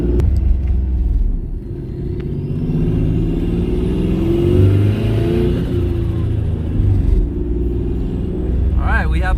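A twin turbo V6 Mustang engine revving under boost, a loud close rumble that climbs and eases in waves, with a high spooling whistle and a sharp hiss near the end.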